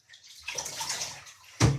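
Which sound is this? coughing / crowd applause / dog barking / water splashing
water splashing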